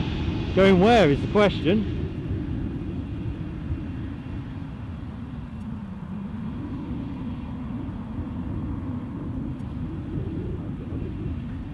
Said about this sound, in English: I'm hearing a lot of engines idling, and there goes our Loganair